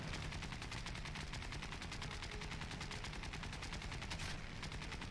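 Rapid, continuous tail-gunner machine gun fire from an aircraft in War Thunder, a fast even rattle of shots running throughout, steady and moderately distant.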